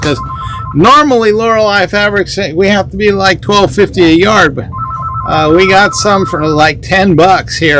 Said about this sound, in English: sorry about that phone call going off